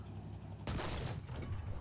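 Tank cannon firing in the War Thunder ground forces beta: a single sudden loud blast about two-thirds of a second in, with a sharp crack that decays into a rumbling tail over steady low engine hum.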